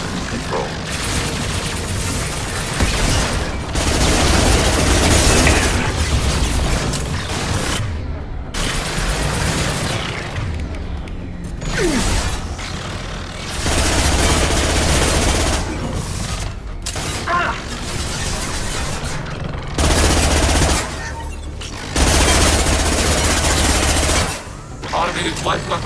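Automated light weapons fire in bursts amid booming explosions during a Mass Effect 2 battle aboard a huge Geth station, loud and dense throughout, with combat voices breaking in now and then.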